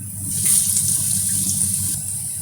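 Potato fries for spicy French fries lowered into hot oil, giving a steady, loud hissing sizzle that swells and holds through the whole stretch with no talking.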